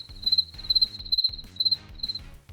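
Crickets chirp in quick rhythmic pulses, a thin high trill repeating about every half second over a soft low hum, quiet and steady with no voices.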